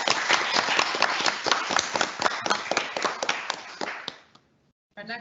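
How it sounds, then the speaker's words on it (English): A small audience at a university students' union LGBT+ panel event claps loudly and closely, with sharp distinct hand claps that die away after about four seconds before a voice starts speaking. "So a big round of applause for everyone"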